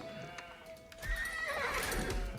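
A horse at a stable in the medieval strategy game Age of Empires IV whinnies loudly over soft hoof clip-clops, after a quiet stretch of faint game ambience.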